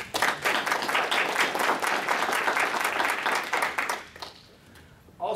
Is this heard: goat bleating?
no